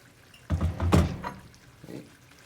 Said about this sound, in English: Hot water, your barberries, just fill them to the top.